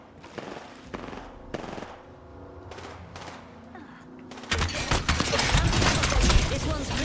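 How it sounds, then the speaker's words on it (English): Video game gunfire starts as scattered, spaced shots under talk, then swells into dense, continuous rapid fire for the last few seconds. "Getting shot at."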